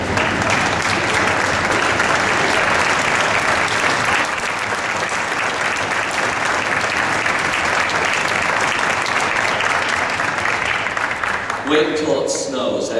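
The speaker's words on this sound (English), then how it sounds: "I want all the parents who are in the room here today to stand up so that the kids can applaud you." Children in a youth orchestra concert hall applaud their standing parents, a dense sustained clapping that fills the room steadily for about twelve seconds before tapering off abruptly at the end.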